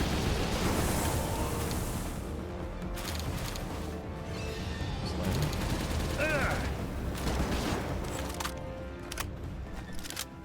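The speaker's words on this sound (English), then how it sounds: "There's a Gatling gun." Rapid bursts of Gatling gun fire in the Palworld game, dense and continuous through most of the stretch, mixed with other game effects and occasional chatter.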